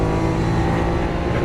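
A Lamborghini Aventador LP700-4 at Las Vegas Motor Speedway runs at full throttle, its engine a loud, close, sustained roar with rich harmonic drone across the whole short stretch.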